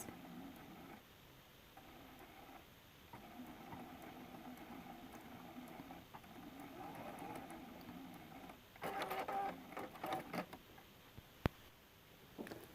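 A sewing machine stitches an apron seam and then does a couple of back stitches. It gives a low, steady whirring hum with brief stops and restarts, ending in a short louder burst with clicks, and no one talks.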